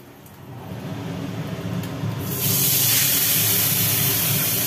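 Panch phoron spices dropped into hot mustard oil, a steady sizzling hiss that swells louder about halfway through and stays strong and close.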